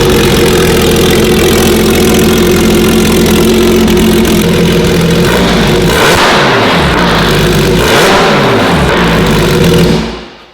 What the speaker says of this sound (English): That freaking cold start high idle thing, man, that is way too loud.